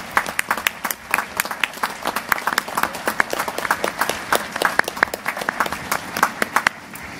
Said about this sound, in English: So how about one more round of applause for the Crandall family?